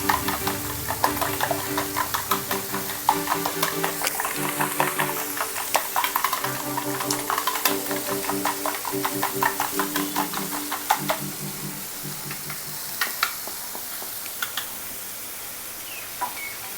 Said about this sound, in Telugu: విస్క్ యూస్ చేసి బాగా బీట్ చేసుకుందాము.